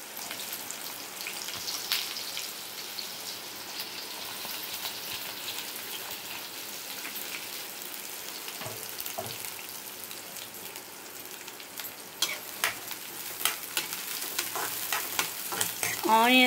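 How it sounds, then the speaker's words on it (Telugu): Chopped onions hiss and sizzle in hot oil with cinnamon and cloves for a chicken curry, a continuous close frying crackle with occasional stirring scrapes and spatters growing busier toward the end. "ఇప్పుడు ఆనియన్స్ వేస్తున్నారు"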